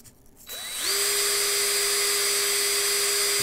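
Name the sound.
power drill spinning a piece against 320 sandpaper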